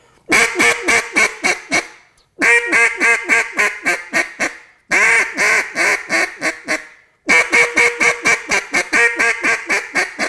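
A jargon duck call is blown with an open hand around it, imitating a mallard hen. It gives four loud, close sequences of rapid, evenly spaced quacks, each run tapering off before a brief pause.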